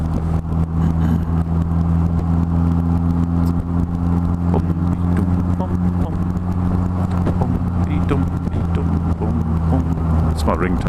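A car engine hums steadily while driving in toward a karting challenge, a low droning tone with a few faint clicks and knocks inside the cabin.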